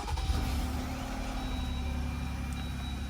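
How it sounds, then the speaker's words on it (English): A Jeep Gladiator engine cold-starts and settles into a low, steady idle rumble at moderate distance, with a faint high tone holding above it and no talking. "let's do a little cold start"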